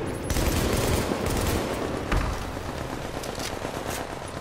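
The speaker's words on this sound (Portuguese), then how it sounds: "Tem a arma montada do cara, tá atirando ali, ó." Mounted gun firing in the shooter game The Division, rapid bursts of automatic gunfire crackling in a dense, sustained fusillade with a sharp heavier shot midway, fairly quiet overall.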